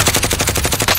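Rapid automatic gunfire from a video game rooftop firefight, about a dozen evenly spaced loud bursts in one second, dense and continuous with no talk over it.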